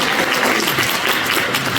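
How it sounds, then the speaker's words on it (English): Audience applause for invited guests at a public meeting, a steady broadband clatter of many hands filling the short moment, with some voices mixed in underneath. "give a round of applause for our guests"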